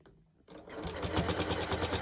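A sewing machine zigzag-stitches a fabric jelly roll, starting after a brief quiet moment and then running steadily and close with a fast, even pulsing rhythm, with no talking.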